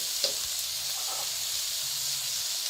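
Boiled peas fry in a pan for chicken vegetable pasta, giving a steady bright sizzle and hiss with a few faint taps and stirring sounds, close and continuous, with no talking.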